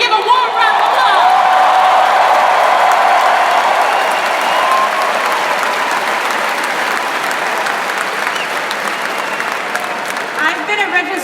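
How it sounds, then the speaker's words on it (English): A large crowd at a Bernie Sanders political rally in Los Angeles breaks into sustained, loud applause with cheers and whoops, holding steady for about eleven seconds before tapering slightly. "Give a warm round of applause."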